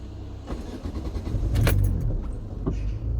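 A car engine is started during a driving lesson: a key jingles, the starter cranks briefly and the motor catches into a steady idle rumble heard up close inside the car.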